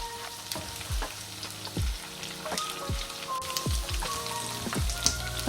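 Tofu pieces frying crisp in a pan give a dense, crackling sizzle with scattered sharp pops and spits, steady and close throughout.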